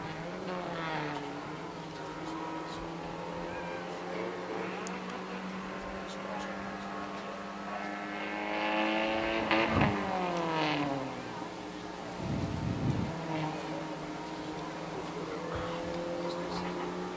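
Dirt modified race car cruising a victory lap at Airborne Speedway in Plattsburgh, New York, engine droning and revving at moderate distance with a couple of louder swells, under a public-address announcer's voice.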